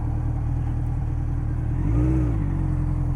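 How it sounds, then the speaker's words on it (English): A motorcycle engine rumbles at idle and then briefly surges in revs as the clutch drops, with a low droning throb close to the rider, no talking. "I accidentally dropped the clutch there for a second."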